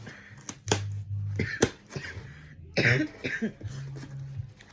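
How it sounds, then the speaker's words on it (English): Several sharp, close coughs in quick bursts, with short pauses and a rough throat sound between them. "I do have like a nasty cough"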